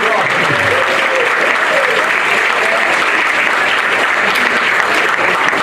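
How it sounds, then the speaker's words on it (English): Sustained applause from a banquet crowd honoring a Mexico All-Stars under-15 football team, steady dense clapping filling the whole stretch with a light murmur of the room beneath. "let's give one more round of applause for the Mexico All-Stars."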